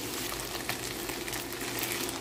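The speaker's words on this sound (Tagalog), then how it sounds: "medyo na prito-prito na yung ating hotdog." Hotdogs sizzle steadily in a hot pan, a constant crackling hiss with small pops, no voices over it.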